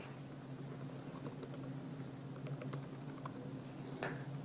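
Scattered, soft keystrokes of code being typed on a computer keyboard in an irregular rhythm, faint over a steady room hum, with no speech.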